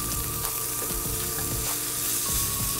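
Ham sizzles steadily in a hot pan, a dense continuous frying crackle with occasional soft pops and stirring clatters, close and alone without talk.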